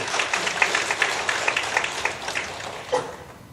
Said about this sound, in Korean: 하나님께 박수 올리겠습니다